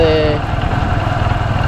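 A motorcycle engine drones steadily and loudly at close range during a ride through Alaska, with a low rumbling, vibrating tone and brief tonal whine at the start.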